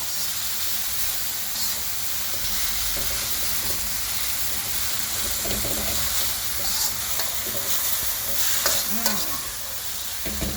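Thinly sliced potatoes sizzle and crackle steadily in a hot pan, with occasional scraping stirs and a constant frying hiss throughout.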